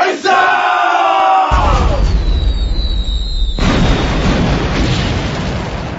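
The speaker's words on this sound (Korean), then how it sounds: "무시무시한 폭격 앞에" Radio-drama battle scene of a siege bombardment: a dense roar of explosions and shouting crowd battle cries, with a whistling projectile sweep and a heavy boom midway, loud and continuous throughout.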